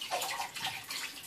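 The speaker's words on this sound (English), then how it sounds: "Fill it back up with some fish tank water." Fish tank water pours steadily into an emptied canister filter, a continuous splashing, rushing flow with bubbly texture, close and fairly loud, no voices.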